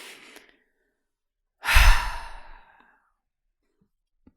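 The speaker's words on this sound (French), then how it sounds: "prenez 3 grandes inspirations par le nez et expirez par la bouche, comme une respiration de soulagement" A single deep, audible exhale lasting about a second, a relieved sigh-like breath out through the mouth, close and clear, with faint breathing before it and silence after.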